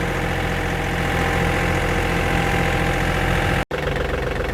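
A John Deere tractor engine idles steadily with a loud, continuous rumble, broken by a brief dropout near the end.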